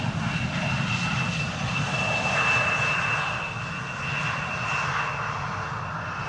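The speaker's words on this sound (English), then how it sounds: "we are now looking at KLM flight 942 arriving from Glasgow" A KLM narrow-body passenger jet lands at Schiphol on the Polderbaan runway in gusty weather, its engine roar steady and moderately distant, swelling slightly midway, with no talk.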